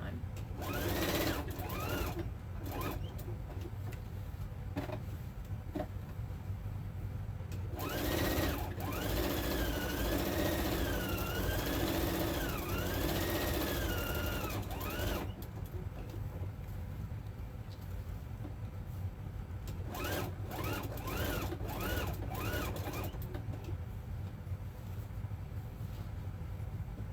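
A sewing machine runs steadily, stitching a Christmas tea towel with thread that suits most fabrics, its motor whirring continuously at close range while a voice talks over it throughout.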